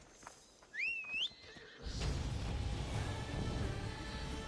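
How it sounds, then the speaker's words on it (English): A horse in the game Assassin's Creed Odyssey gives a short, clear rising-and-falling whinny, then a louder wash of rumbling game sound follows and continues steadily. "That is not my horse."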